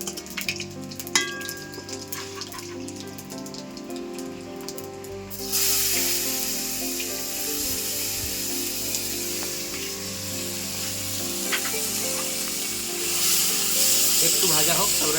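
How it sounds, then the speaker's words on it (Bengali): Chopped onions drop into hot oil with bay leaf and whole cumin seeds, and a quiet pan bursts into a loud, steady sizzle that keeps crackling and hissing. "এটা অল্প ভাজা হয়ে গেছে এবং আমি পেঁয়াজ কুচুনের মধ্যে দিয়ে দিচ্ছি"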